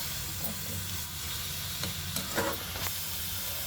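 Cumin seeds and garlic frying in oil in a pan while cooking a dondakaya pudina pachadi, giving a steady close sizzle with a few soft stirring scrapes.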